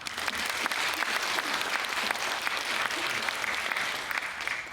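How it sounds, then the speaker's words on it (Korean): Audience at a humanities lecture applauding, steady dense clapping from many hands for several seconds, moderately close. "김성근 교수님께 다시 한번 뜨거운 박수 부탁드립니다"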